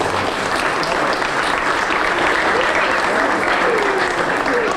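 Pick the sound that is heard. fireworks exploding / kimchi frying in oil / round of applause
round of applause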